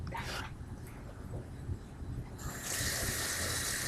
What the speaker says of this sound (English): The first way that you want to do it is you want to set up some running water.